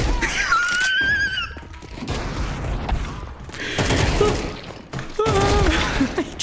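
Grenade blasts and gunfire in the shooter game Counter-Strike 2: loud, rough volleys of shots and bangs in several surges, over a busy game backdrop with voices present.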